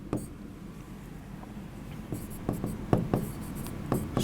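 Chalk or marker taps and scratches across a classroom board as an equation for the ideal gas law is written, a series of close irregular ticks and strokes that grow denser toward the end.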